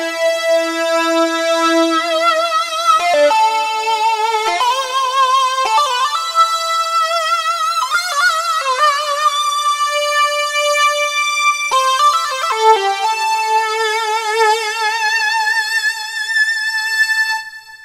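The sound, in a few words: Korg Wavestation synthesizer Mini Lead patch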